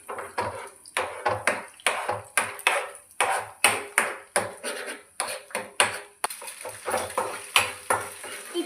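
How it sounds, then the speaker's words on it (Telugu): Eggs being stirred into a curry in a pan, a utensil scraping and tapping in a steady repeated rhythm, roughly two strokes a second, with light frying sizzle underneath, close and fairly loud. "ఈ ఎగ్స్ కొంచెం వేడయ్యాక వేయగానే అన్నమాట మిక్స్ చేసుకోవాలి"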